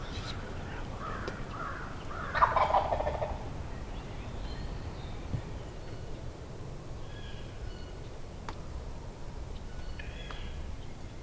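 Wild turkeys gobbling in the distance in cold, snowy weather, one louder burst early on, over a steady outdoor hiss with a few faint calls later.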